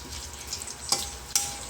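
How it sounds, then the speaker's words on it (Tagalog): Food fries quietly in a pan with just a little cooking oil, a soft steady sizzle with a couple of sharp crackles and pops. "Ilagay na natin sa kawali na may mantikang, kunting mantika lang."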